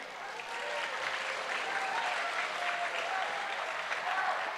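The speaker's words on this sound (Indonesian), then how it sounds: "Tepuk tangan sebelah kanan saya mana?" A crowd at a school event in Padang, Indonesia claps steadily for several seconds, a dense, even patter of applause with a few cheers mixed in, heard from some distance.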